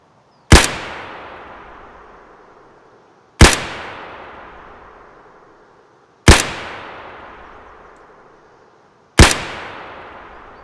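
SKS and AKM test shots in the video game Escape from Tarkov, four loud single gunshots evenly spaced about three seconds apart, each a sharp crack with a long echoing decay, no talk.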